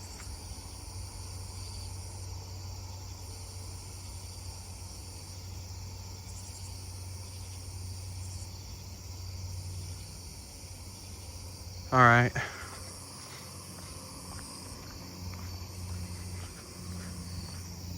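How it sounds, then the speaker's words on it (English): Nebraska conehead and round-tipped conehead katydids call side by side at night, continuous high, buzzing trills held steady throughout, with a voice speaking briefly midway. "I'm hearing both round-tipped and Nebraska side by side"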